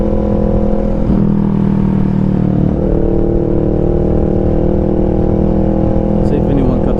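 A Honda Rebel 500 motorcycle fitted with a DBK aftermarket exhaust rumbles steadily up close, its engine note shifting abruptly around a downshift with a brief rev change, loud and continuous throughout.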